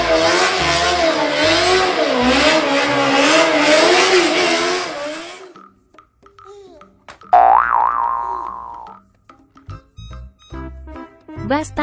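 A toy race car revs with a loud, wavering, whining engine note for about five seconds, then cuts off. Brief electronic boings and effects follow, with a short spoken word among them.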